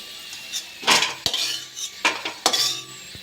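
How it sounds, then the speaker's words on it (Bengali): A metal spoon scrapes and clinks against a pan while lifting out cashews and raisins fried in ghee, several sharp scraping strokes close up with no talk. "কিশমিশ কাজুটা ভাজা হয়ে গেছে, আমি এবার তুলে নেব।"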